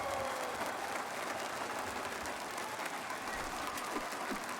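A packed arena crowd at an esports match roars and cheers in a dense, steady wash of noise that holds at an even level throughout, no single voice standing out.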